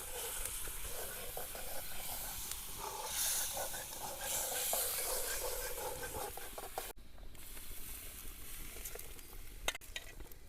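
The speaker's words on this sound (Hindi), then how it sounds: "महाराज जी की सब्जी प्रसादी पकने लगी" Wild greens cook in a wok set over a smoky fire pit, giving a steady, soft sizzle and hiss with faint stirring scrapes, continuous and fairly quiet throughout.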